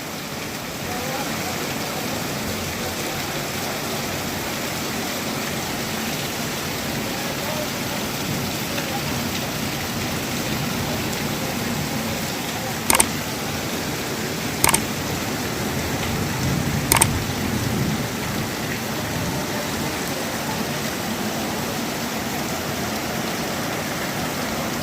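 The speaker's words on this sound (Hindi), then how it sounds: "आज बारिश क्यों ज़्यादा है?" Heavy rain pouring down in a village in Pakistan, a dense steady hiss of rainfall close around, with a few sharp clicks and faint voices mixed in.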